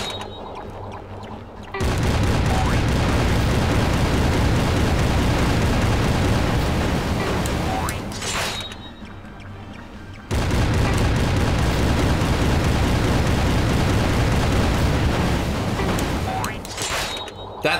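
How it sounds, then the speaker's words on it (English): Cannon fire in the PSP game Truth or Square: two long, dense roaring bursts, each several seconds, separated by a brief lull, loud and close with game sound effects. "That last cannon almost sniped me"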